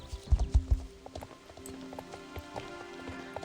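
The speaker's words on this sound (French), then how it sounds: "je monte Lavender qui est en fait le cheval Paintors magique" Hooves of a magic Paint horse in a video game clop in a quick trot, with loud, close thuds at the start and softer steps after, over a faint ambient bed.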